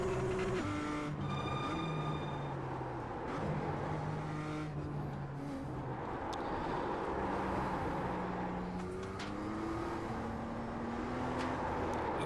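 A BMW M2 lapping Oschersleben in the iRacing sim, its engine note climbing and dropping steadily through gear changes and corners, loud and continuous with no talk over it.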